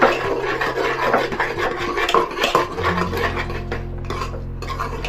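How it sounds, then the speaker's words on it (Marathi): Wheat lapsi with jaggery being stirred in a pan, a close, continuous scraping and clinking of a spoon against the metal, with a low steady hum joining partway through and no voices. "ह्याला हलवून घेऊयात थोडे वेळ गूळ विगरेपर्यंत."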